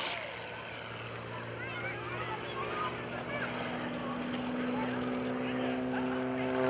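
A two-seat Extra 300 aerobatic plane takes off at an airshow on Greenwood Lake, its engine droning steadily and building slightly in loudness, with a voice talking over it.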